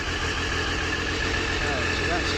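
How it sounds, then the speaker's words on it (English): A Triumph Daytona 955i motorcycle with its standard exhaust idles while warming up, a steady low rumbling drone, close and constant throughout. "that's a standard exhaust running. Just warming up."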